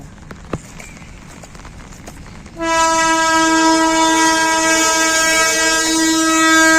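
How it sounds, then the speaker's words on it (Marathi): A freight train carrying containers passes close by, its horn blaring in a long, loud, sustained blast after a few seconds of quieter background noise. "बघा ट्रेन इली मालडबा"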